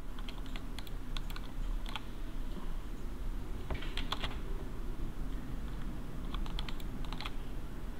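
Computer keyboard keys pressed in short scattered bursts of clicks, including modifier key combinations like Alt and Shift, fairly close with no talking.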